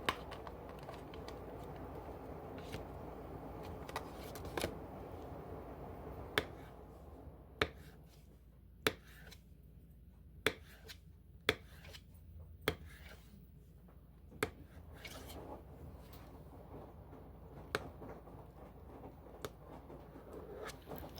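A knife slicing firm tofu on a cutting board, a run of crisp, evenly spaced taps that begin quickly and then spread out, with a faint steady background hum.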